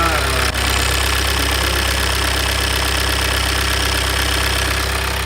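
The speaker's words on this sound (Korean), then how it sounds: "시동 한번 걸어볼까요? 시동 걸렸습니다" A 4th-generation Kia Carnival engine running at a steady, loud idle close by, with a continuous even drone and a brief catch near the start, and no talk over it.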